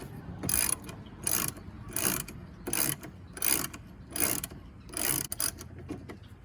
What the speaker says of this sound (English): I'm going to take my little handy dandy ratchet, and I'm going to start removing these little ear mounts